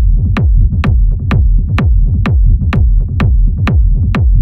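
A trance, techno or progressive house electronic bass line with its high end cut: loud, deep, pumping pulses in a steady rhythm, with sharp regular percussive hits on top, no talking.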